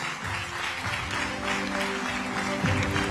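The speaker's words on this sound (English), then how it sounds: "you must sustain the applause as we welcome her onto the" An audience at an awards ceremony applauds steadily, a dense wash of clapping from a large crowd that swells slightly near the end, with a faint voice mixed in.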